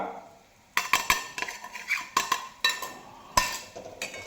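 A metal spoon scrapes and clinks against a pan as chili powder roasts with onions, sharp irregular knocks and stirring strokes up close over a quiet background, with no talking.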